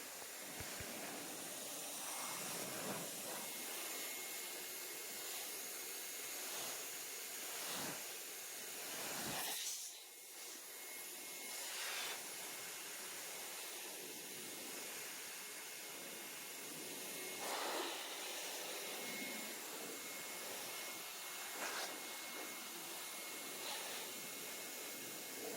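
Undrdog car dryer blowing water off a vehicle panel after a wash, a continuous loud hissing rush of air that holds steady throughout with slight surges and dips, close by and with no talk.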